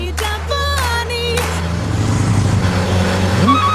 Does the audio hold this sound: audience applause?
no